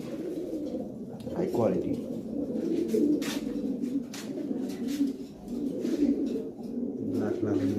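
Black and silver Lahori pigeons coo repeatedly close by in a loft, their soft, throaty calls rising and falling over a steady murmur of other birds, with a person briefly talking.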